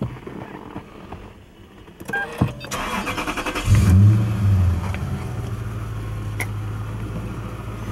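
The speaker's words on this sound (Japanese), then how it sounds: "エンジンをかけてみます。" A 2007 Toyota Crown Majesta 4.3 C-type is started: a few quiet clicks and whirs, then a brief crank before the engine catches with a loud surge and settles into a smooth, steady idle.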